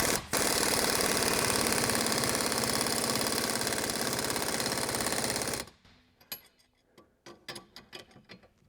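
A pneumatic impact gun set to 300 foot-pounds tightens a hitch ball mount onto a cast steel shank, a loud continuous rattling hammer for about five seconds, then stops and gives way to scattered clanks and knocks.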